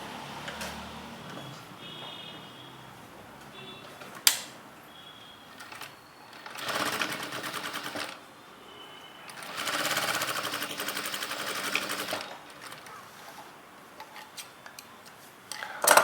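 A sewing machine stitches a neckline edge folded a quarter inch, running in steady bursts of mechanical whirring with short pauses between runs, close and alone with no talk.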